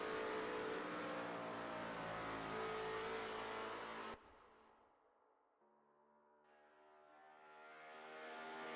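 A Lola T70 MkII Spyder race car in a racing video game at Österreichring, on its out lap: a loud, buzzing engine holds a steady pitch, then drops away abruptly when the throttle lifts, and builds back up as the car accelerates.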